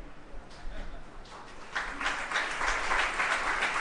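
An audience claps steadily in a broad wash of applause that swells in the second half, with no voices over it.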